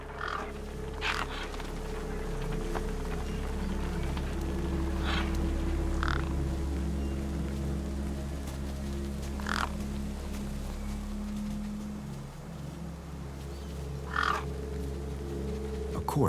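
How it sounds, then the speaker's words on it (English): Gang birds in the video game Beyond a Steel Sky give several separate caws, each short and a little harsh, against a constant low hum of ambient game sound. "The gang birds were eyeing up the corpse hungrily."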